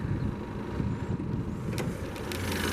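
Low, steady rumble of a 2019 Ford Edge SEL with a 2-liter turbocharged four-cylinder Ecoboost engine idling, heard close with a couple of faint clicks near the end and no talk.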